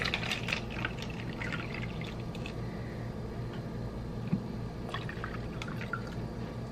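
Tap water pours from a bottle into a container as pupsicles are made for freezing. The liquid trickles and splashes steadily at close range and fairly quietly, with no talk.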